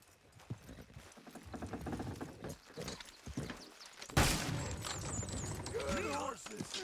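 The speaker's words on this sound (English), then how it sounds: "Good horses." Horses trotting in Red Dead Redemption 2, rhythmic hoof clip-clop close by, mixed with game ambience, a sharp burst midway and some bird-like calls afterward.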